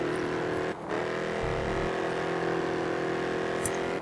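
A racing car drifts in GRID Autosport, with a steady, loud engine drone and tyre noise that continue throughout, briefly dipping once and joined by a short low rumble.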